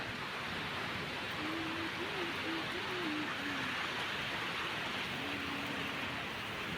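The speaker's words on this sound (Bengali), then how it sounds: "বৃষ্টি পড়েই যাচ্ছে বৃষ্টি কমছে না" Steady, dense hiss of heavy rain pouring down during a storm on a rooftop garden, continuous and fairly loud throughout, with a faint low voice briefly murmuring underneath.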